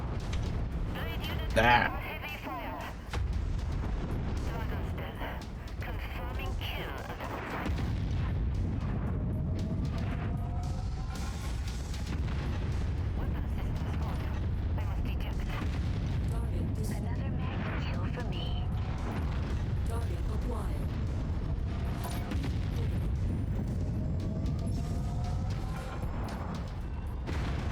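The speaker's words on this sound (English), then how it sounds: "There's so much artillery, what the hell?" Artillery barrages and explosions rumble through a mech combat game, MechWarrior 5: Mercenaries, as a continuous heavy roar of booms and blasts, with a loud hit early on and someone talking and reacting over the battle.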